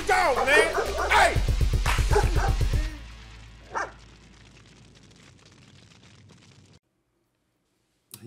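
A dog barks in a rapid string of loud, close yaps indoors, mixed with a voice, then the room settles into quiet background noise.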